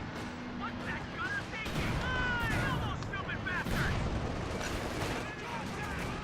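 Captured bazooka shots fire in a World War II strategy game battle between Wehrmacht and US forces, with booms and explosions under continuous commentary.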